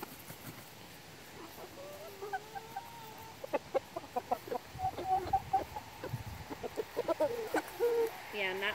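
Backyard chickens, including a large rooster, cluck and make short calls at close range, building from quiet to a rapid run of clucks, with people talking softly in the background.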